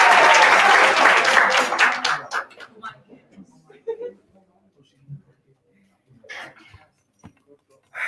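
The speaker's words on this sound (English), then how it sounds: "Just please clap them for yourself." Audience at a youth political conference claps loudly for about two seconds, then the applause thins into a few scattered claps and fades, leaving quiet room noise with a cough and brief murmurs.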